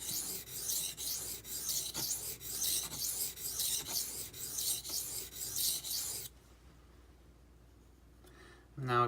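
A steel knife blade strokes back and forth across an Imanishi Latte 400 grit whetstone in an even, rasping rhythm of close strokes for about six seconds, then goes quiet.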